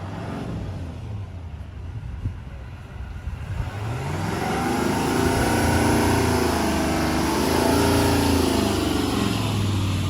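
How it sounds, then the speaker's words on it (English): Pickup trucks, transport trucks, vans and cars passing at the Ambassador Bridge on the Detroit–Windsor border during a protest, a distant engine rumble that swells into a louder, closer drive-by and continues. "maybe 7, 8 trucks, transport trucks, and most are pickup trucks, vans, and cars."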